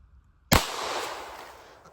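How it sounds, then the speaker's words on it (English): A .22 rifle round fired with 36-grain Winchester ammunition from a GSG Firefly strikes a 2-liter bottle, giving one sharp, loud crack and burst, followed by a hissing, spraying decay that fades over about a second and a half. "I did forget how awesome 2-liter explosions are with 22s."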